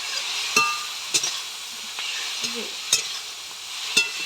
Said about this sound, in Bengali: একটু ভাজা ভাজা হোক